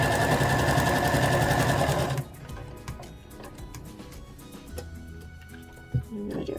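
A sewing machine stitches the top of a pair of bear overalls, running loud and steady for about two seconds, then stopping. A few soft handling clicks and rustles follow, with one short thump near the end.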